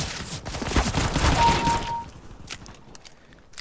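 Pistol gunfire in the video game CS:GO: a quick volley of sharp, loud shots crackles densely for about two seconds, then fades to a few scattered faint impacts and footsteps.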